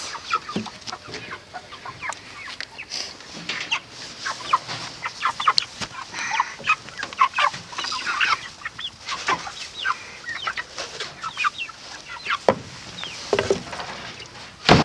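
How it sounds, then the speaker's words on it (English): Meat chickens clucking and squawking in a busy, continuous chorus close by, with overlapping calls and occasional louder cries and no talk. "Y'all, these are the craziest chickens ever."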